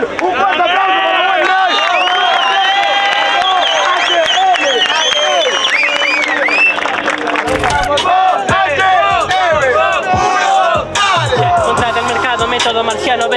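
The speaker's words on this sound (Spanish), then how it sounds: "Un fuerte aplauso para Guaná" A crowd at a Street Warriors Argentina rap battle cheers, whistles and claps loudly over booming sound-system music, with shouting voices rising and falling close by.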